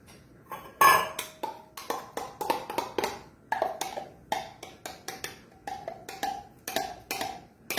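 Cheese scooped into a bowl in a home kitchen, a run of light clinks and taps from a utensil against the dish, close and steady, repeating in a loose rhythm.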